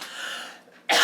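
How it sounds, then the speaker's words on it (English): A single short, sharp cough bursts out at the end after a breathy, rasping exhale, close to the microphone. "Coughing stuff."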